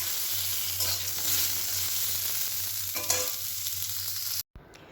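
Steady sizzling of mango pieces frying in a pan, with occasional scraping stirs, close and continuous before cutting off abruptly.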